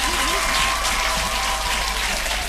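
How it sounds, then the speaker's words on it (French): A church meeting audience claps and cheers in a steady, dense wash of applause, loud and continuous, with faint voices mixed into the crowd. "Est-ce qu'on peut acclamer encore?"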